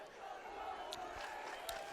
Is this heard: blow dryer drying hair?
no